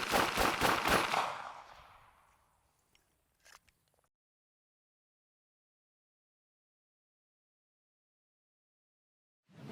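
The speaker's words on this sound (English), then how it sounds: "we're back to the 9mm Hornady critical duty. I'm gonna hit this thing with 5 rounds real quick" Five quick 9mm pistol shots from Hornady Critical Duty rounds crack out loud and close in rapid succession, with a ringing tail fading over about two seconds, then near silence with a couple of faint clicks.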